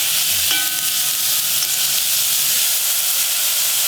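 Garlic and beef stir-frying in a pot for Korean bean sprout beef hangover soup, a steady close hiss and sizzle running the whole time, with a brief metallic clink of a utensil early on.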